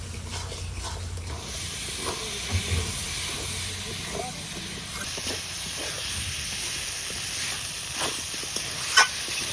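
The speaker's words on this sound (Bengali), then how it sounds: "আলু দিয়ে আমি 2-3 মিনিট ভালো করে মশলার সাথে কষিয়ে নিয়েছি" New potatoes are stirred through spices in a pan, giving a steady close hiss and sizzle with occasional scrapes and clinks, with no talking.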